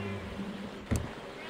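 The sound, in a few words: person imitating a cat sound with their lips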